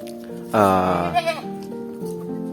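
Goats bleating up close, one long wavering bleat followed by a shorter second cry, over a faint steady background hum with no talk.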